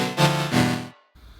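Serum saw wave chord pitched two octaves down plays as two short, heavy, very deep stabs, then cuts off to near silence before a faint trailing bit.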